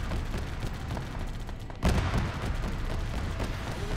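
Gunfire from the ArmA 3 video game during a Halo-themed operation: a dense, continuous rattle of shots with a sharp louder burst near the middle, steady and loud throughout with no talking.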